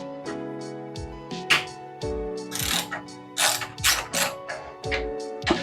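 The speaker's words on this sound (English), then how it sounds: "10mm socket to remove this cover here." A ratchet with a 10mm socket clicks in repeated bursts as it loosens the cover nuts on a 6.5hp Thai long-tail boat motor, the sharp close pawl ticks coming in quick runs separated by brief pauses.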